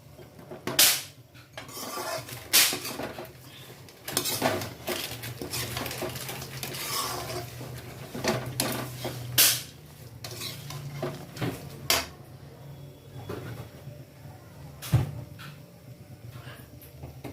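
Thick poha chivda is stirred in a pan with Kashmiri red chilli powder. Repeated scraping and stirring runs throughout, with sharp clinks of a spoon against the metal pan at uneven intervals.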